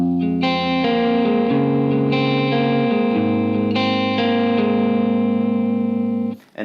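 A sequence of sustained electric guitar chords through chorus and distortion effects from a Line 6 Helix/HX, shifting shape roughly every second, ringing loudly and evenly before stopping abruptly.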